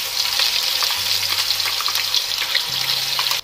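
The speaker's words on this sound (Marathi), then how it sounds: "2 मिनिटे मसाला आपण तेलामध्ये छान परतून घेणार आहोत" Ground masala paste with cumin, mustard seeds and curry leaves fries in hot oil for a potato bhaji, giving a dense, steady close-up sizzle with faint stirring and a low background hum.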